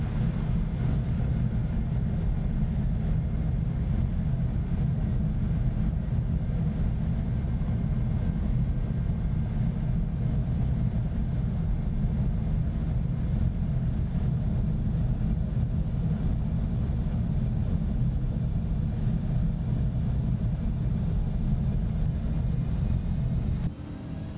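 An ERJ-145XR regional jet in the X-Plane 11 flight simulator on approach and landing, with a steady, even cockpit engine and airflow drone that holds throughout and drops slightly at the very end.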